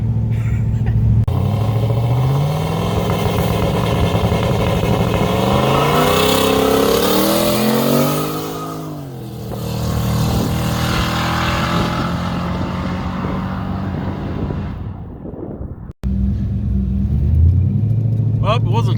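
A turbocharged LS-engine car running a Holley setup accelerates hard in a dig, its engine roaring up through several gears with rising pitch sweeps, dropping briefly, then revving again close and loud, with people talking.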